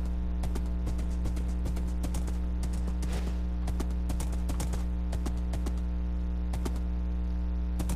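Horse hooves clip-clopping in Minecraft, a fast run of sharp, evenly spaced hoof clicks over a constant low hum, close and loud, with no voices.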